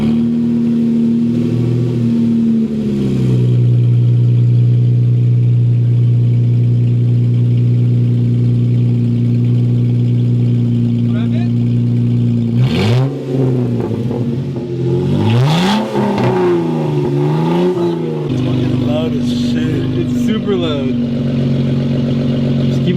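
A Jeep Wrangler fitted with a Pypes high clearance catback exhaust, loud and close, idling with a deep drone and then revving up in several quick surges before settling back.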